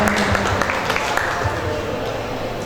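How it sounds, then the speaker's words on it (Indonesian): Audience applause at a talk about a photo book made by children with disabilities, a steady wash of clapping from a room full of people lasting the whole moment, fairly loud and even with no speech over it. "Ini tepuk tangan teman-teman."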